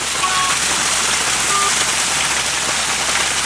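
A PTO-driven trunk water pump flushing out a tank sends water gushing in a loud, steady, close roar that holds without a break.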